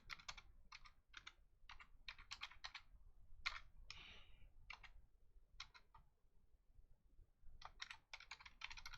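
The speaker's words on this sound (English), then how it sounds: "and then you get a little typing practice here" Typing on a computer keyboard during a coding lab exercise, heard as quick bursts of crisp close key clicks separated by short pauses, with no talk.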